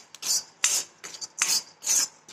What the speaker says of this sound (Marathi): हाय फ्लेम जरी असली तरी एकसारखी हलवायची, खमंग भाजायची।